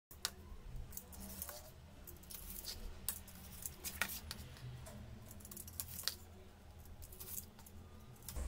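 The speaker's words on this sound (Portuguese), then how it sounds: "Agora aqui eu preciso cortar em todos eles. Então aqui eu vou cortar, aqui, aqui e aqui." Scissors snipping through cardboard box flaps, a series of quiet, sharp cuts at irregular intervals, close up, over faint background hiss with no speech.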